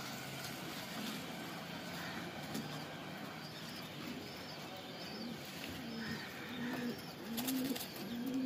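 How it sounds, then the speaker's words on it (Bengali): A pair of racing pigeons is released at a tournament, with soft cooing and bird calls over a constant outdoor background hum, moderately quiet and fairly near. "এই পায়রা ছেড়ে দিল দুটো।"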